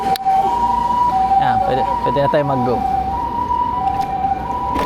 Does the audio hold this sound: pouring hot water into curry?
no